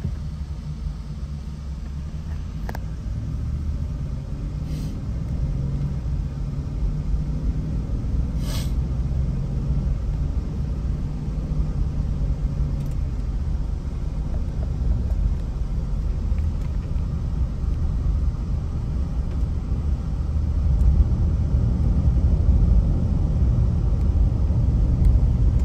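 A 2015 Chevrolet Tahoe LT on a test drive gives a steady, low engine and road rumble from inside the cabin, unbroken for the whole stretch and swelling slightly near the end, with no talking.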